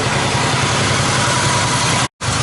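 A Yamaha XS850 motorcycle engine fitted with E3 carburettors idles steadily and close by, a dense continuous rumble with a brief cut near the end, no talk over it.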